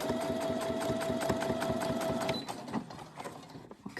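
A sewing machine stitching binding onto a quilt, a fast steady mechanical whir with rhythmic needle ticks that slows and stops partway through, leaving quiet handling noises.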